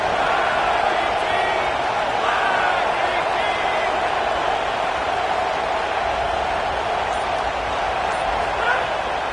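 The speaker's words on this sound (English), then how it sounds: "This crowd bringing the energy and noise early" Stadium crowd noise from the video game College Football 27 at a Georgia Southern game, a loud continuous roar with swells of cheering throughout, under steady talk.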